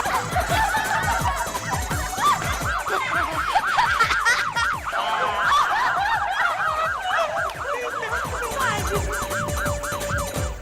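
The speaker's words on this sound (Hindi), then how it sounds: "आप ये सायरन आप बजा रहे थे?" A wailing siren sweeps up and down continuously over a loud, busy background, with bursts of laughter mixed in.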